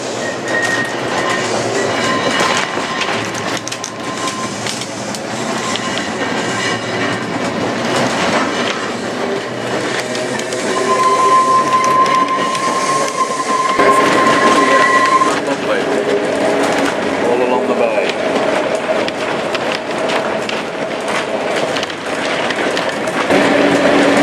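An Isle of Man railway train rumbles steadily along the rails near its highest point, 588 feet above sea level, with rhythmic clatter and occasional high metallic squeals from the wheels, continuing throughout.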